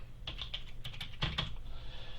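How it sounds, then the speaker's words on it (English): A few quick keystrokes on a computer keyboard, a short burst of light clicking as a search word is typed, close and quiet in a still room with no talking. "I'm going to type compressor."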